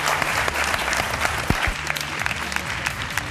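Loud, sustained audience applause at a school quiz final prize ceremony, steady dense clapping throughout with a few voices and murmurs mixed underneath.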